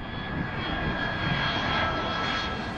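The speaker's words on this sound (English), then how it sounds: "The crew is flying an MD-82." An MD-82 airliner with two rear-mounted jet engines cruises at high altitude, giving a steady, continuous engine roar and whine with no pauses.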